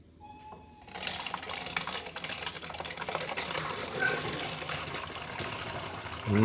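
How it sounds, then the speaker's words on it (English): Freshly squeezed mandarin juice poured into a backyard brewing vessel: after a quiet second, a close, continuous splashing gush of liquid runs steadily, with a few small knocks as the pour ends. "we've got one filled up. Let's pour it in here."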